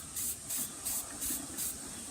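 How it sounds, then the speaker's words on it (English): Five short, evenly spaced bursts of spray paint hiss close by onto the underside of a model Candytuft tree, each lasting about a third of a second, with no talking. "I always tend to kind of spray the underneath first, just little short sprays."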